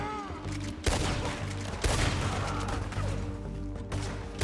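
Gunfire crackles in Red Dead Redemption 2, several sharp shots and rattling bursts at irregular intervals over a steady game soundtrack bed.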